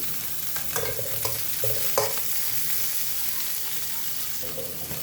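Onion and a potato frying in mustard oil give a steady, close sizzle, with a few scraping stirs of a spatula against the pan near the start and end.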